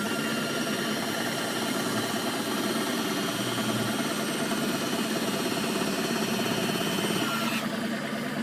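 A small outboard boat motor idles in a steady, even drone with a faint mechanical rattle, continuous and fairly quiet throughout.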